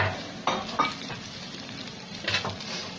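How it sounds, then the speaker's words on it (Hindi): Onions browned in ghee and oil poured as a tempering into a pot of haleem, a bright hiss and crackle with a few bursts of stirring, close and fairly loud. "अब मैं डालूंगी ये प्याज मैंने लाल कर लिए, थोड़ा सा घी और तेल डाल के, और ये भगार"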